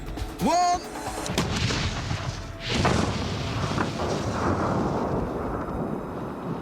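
A huge explosive boom blows off a steel door, then roars on as a long, rumbling blast with debris noise, after a brief whistle-like tone.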